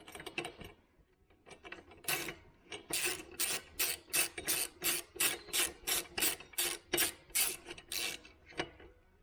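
A ratchet clicks in a quick, steady run of about a dozen sharp strokes, close and fairly quiet, as bolts on a 3D Moto auxiliary fuel tank for a WR250R motorcycle are cinched tight.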